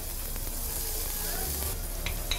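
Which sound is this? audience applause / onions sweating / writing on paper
onions sweating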